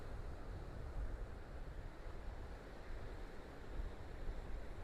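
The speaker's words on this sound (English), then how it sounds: "Oh, look at those waves." Ocean surf rolling onto a quiet beach at St. Pete, a steady broad wash of breaking waves with some wind rumble against the microphone, continuous and fairly faint with no voices.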